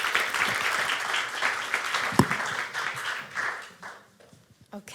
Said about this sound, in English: Applause for Mary.